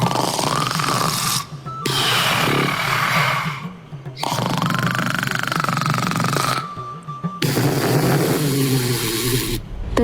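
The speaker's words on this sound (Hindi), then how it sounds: "कूलर के सामने भूकंप जितने तेज खर्राटे लेते हुए सो" Loud, heavy cartoon snoring of a man asleep in front of an air cooler, in long rasping breaths, repeating several times with brief pauses between them, close and dominant.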